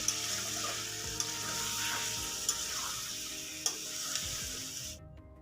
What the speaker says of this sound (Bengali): তারপর আবারও সব কিছুকে একটু ফ্রাই করে নেব।